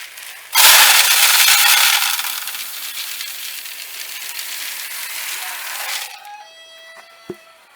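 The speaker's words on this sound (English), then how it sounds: "time to pour some food in here and see what happens" Dry chicken feed pellets pour noisily into a plastic water bottle feeder in a loud continuous rattling rush for several seconds, then stop, followed by quiet handling and a single knock.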